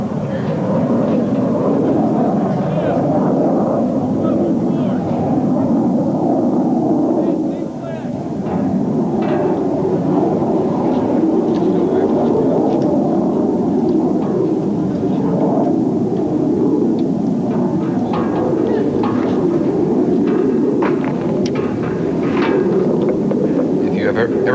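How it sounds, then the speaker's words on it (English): Military aircraft fly low overhead toward Qasr during the US invasion of Iraq, a loud sustained roar and rumble that continues for the whole span, with a speaker talking over it in a news broadcast. "We hear the aircraft coming to Qasr now."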